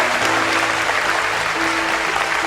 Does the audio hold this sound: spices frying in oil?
no